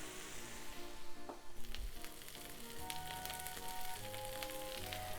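Corn kernels cooking in butter in a pan, a soft continuous sizzle with faint crackling pops throughout, fairly quiet and steady with no talking.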